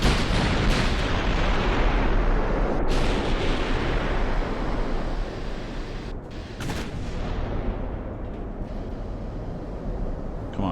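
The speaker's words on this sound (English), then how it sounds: "it's really only the mains that are firing so far" Main battery guns fire in the naval game Ultimate Admiral: Dreadnoughts, a loud, dense barrage of heavy booms and blasts that overlap into a continuous roar, with a few sharper cracks standing out.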